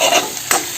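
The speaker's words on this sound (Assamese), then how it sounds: "এইখিনি এতিয়া ভাজি হৈ গৈছে দেখিছেনে চাইডৰ পৰা তেল ওলাই আহিছে" Meat, potato and gourd frying in hot oil, with steady sizzling and crackling broken by brief bursts as the pieces are stirred, close and fairly loud, with no talk.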